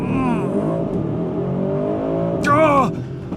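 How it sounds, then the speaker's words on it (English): A 2025 Aston Martin DBX 707 launches hard from a standstill under launch control, its engine held at high revs then surging loudly through rising gears, with a sharp high-pitched whine near the end. "I just hold my foot on the brake, pin the throttle, build up the revs, and let it go"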